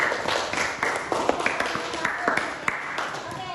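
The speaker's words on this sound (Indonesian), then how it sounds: "Tepuk tangan dulu untuk kelompok 1" Students in a classroom give a short round of clapping for a discussion group, a quick scatter of hand claps layered with voices chattering throughout, close and moderately loud, trailing off by the end.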